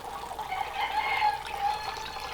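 Chickens clucking and murmuring in a continuous chorus, moderately close, with faint background noise and no talking.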